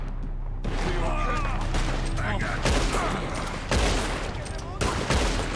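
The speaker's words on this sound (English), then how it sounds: "Are you guys shooting at us?" Gunfire erupts in the Red Dead Redemption video game as several rapid bursts of shots crack loudly over a noisy battle, while players talk over the firing.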